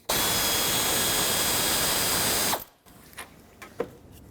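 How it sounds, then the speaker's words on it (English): A ratchet spins out an 8mm bolt on a 2008-2010 Ford F-250, with a loud, steady mechanical whir for about two and a half seconds, then a quiet stretch with a few small clicks and taps. "I'm going to take out this 8mm bolt so I can kind of maneuver the shroud out of the way"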